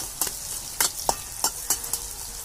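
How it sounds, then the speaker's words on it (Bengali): Onions fry in hot oil in a home village-style kitchen while being stirred, a soft steady sizzle broken by repeated scraping stirs of a utensil against the pan, close up. "পেঁয়াজটা একটু নেড়ে নেবো।"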